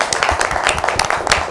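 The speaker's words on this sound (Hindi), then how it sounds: "मैं दोनों टीमों के लिए ज़ोरदार तालियों के लिए कहूँगा" A short burst of lively clapping from a group of people, applauding two singing teams at an Easter Christian family gathering.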